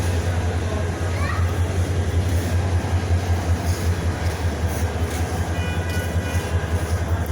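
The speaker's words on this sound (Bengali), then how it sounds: "ইঞ্জিনটা আসছে।" A train engine pulls into Chittagong railway station, a steady loud rumble and rail clatter running continuously throughout, with station ambience around it.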